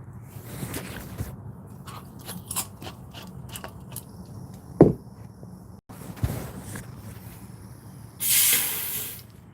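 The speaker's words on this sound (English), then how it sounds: "it sprays the foam out just like that too" Soft handling noises and clicks in an attic, then a short, sharp hissing burst from a spray foam insulation can near the end, close by.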